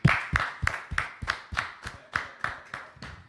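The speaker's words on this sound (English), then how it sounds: "Give him a round of applause." Steady, evenly spaced claps, about ten in a row, in a small group honoring police officer Joe Asmy, close and moderately loud with no voices.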